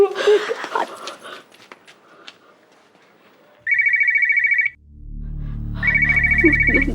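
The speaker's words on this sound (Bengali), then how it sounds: "দাদার ফোন হবে, তখন থেকে ফোন করছে।" A phone ringtone chimes in two steady bursts, loud and close, after a stretch of talking and a brief quiet pause.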